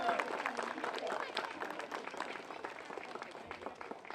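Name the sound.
audience applause at playground ribbon cutting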